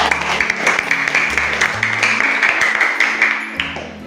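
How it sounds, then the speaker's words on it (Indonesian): Students clapping in a junior high classroom to reward two classmates after a religious studies answer, uneven hand claps with a bit of room noise, tapering off toward the end. "Tepuk tangan untuk dua-duanya."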